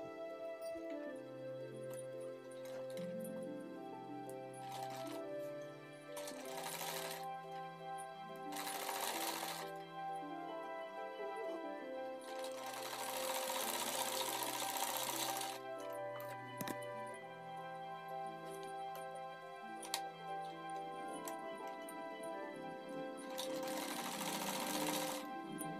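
An electric sewing machine stitches a sleeve onto a ladies' suit, a fast steady rattling hum close by that pauses and restarts in runs, with faint background sounds between bursts.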